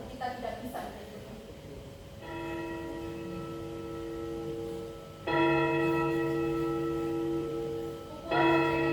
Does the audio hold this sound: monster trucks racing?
no